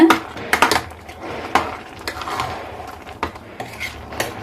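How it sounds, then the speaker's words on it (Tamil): Clattering of a ladle against a pot as cooked ash gourd is pressed and broken up, with scattered knocks and scraping sounds, close by and moderately loud. "இதில் கரண்டி வச்சு இப்படி கொஞ்சம் நல்லா உடைச்சி விட்டுருங்க"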